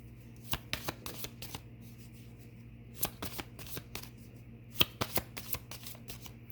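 Tarot cards being shuffled at close range in quick bursts of crisp riffling flutters separated by short pauses, quiet and with no speech.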